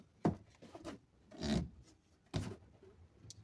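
Wooden stick wedged into place on the brake of a Bajaj mototaxi during bleeding, with three soft scraping, rubbing pushes close up and quiet, no talking.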